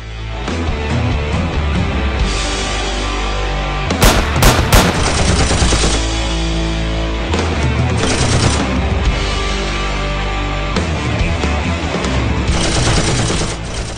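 Loud, sustained gunfire in a film battle scene, rapid automatic bursts and overlapping shots rolling almost without pause, with a sharper, denser volley in the middle.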